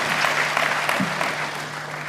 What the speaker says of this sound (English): please help me give a round of applause to everyone with me here on stage today.